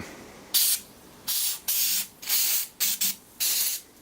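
An aerosol can of Inox lubricant sprays onto salvaged parts of a BSA 420cc air-cooled engine in about six loud, close hissing bursts of varying length separated by short pauses.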